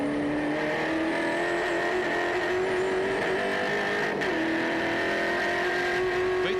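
NZV8 race car engine revving hard as the car accelerates out of a corner, a loud sustained V8 roar climbing in pitch with a brief gear change midway.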